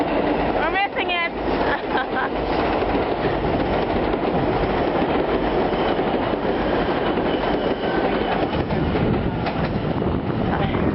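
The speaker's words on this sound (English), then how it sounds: "There goes the train!" A train rolls past in the snow, a steady loud rumble with wheel clatter and a brief metallic squeal near the start, while people talk nearby.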